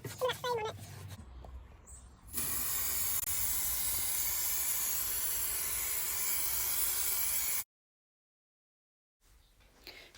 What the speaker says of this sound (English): So I sprayed this adhesive on here